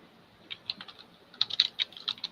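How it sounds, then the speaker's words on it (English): A computer keyboard is typed on, with sparse then quicker bursts of close, crisp key clicks against near silence during an online meeting. "I still hear someone clicking."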